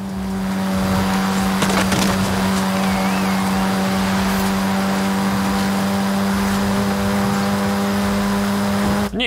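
A front-wheel-drive race car drives in a racing video game, a loud steady engine drone held at constant revs with a strong hum, brief tire noise near the start.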